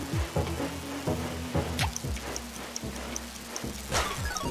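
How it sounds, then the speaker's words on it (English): Rain falls in the Wii U game Nintendo Land as light ticking and dripping patter. It plays alongside plucky game music notes, with no talk. "it's still raining on day 2."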